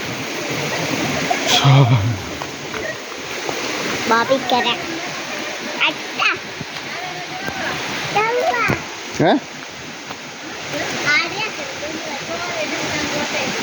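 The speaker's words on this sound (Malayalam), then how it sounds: "ഇതിങ്ങനെ ഒഴുകിക്കൊണ്ട് ചന്ദ്രഗിരി പുഴയിലേക്ക് പോകും" A village stream flows in a steady, rushing current nearby, heading toward the Chandragiri river, while people, including a child, talk over it.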